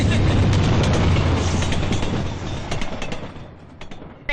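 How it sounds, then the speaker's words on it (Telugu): The Howrah Mail, a passenger train running from Howrah to Chennai, pulls into platform one with a heavy low rumble and clattering wheels. The noise is loud at first, then eases and thins as the train slows. "హౌరా నుండి చెన్నై వెళ్లే ఏడు సున్నా ఐదు నాలుగు నంబర్ గల హౌరా మెయిల్ ఒకటో నంబర్ ప్లాట్ఫామ్ కు వచ్చుచున్నది"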